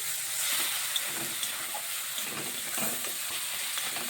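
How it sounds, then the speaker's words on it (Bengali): Cumin paste, coriander powder and turmeric powder fry in hot oil, giving a steady, close sizzle and hiss with a few soft stirring scrapes throughout. "ভালোভাবে কষিয়ে নিচ্ছি।"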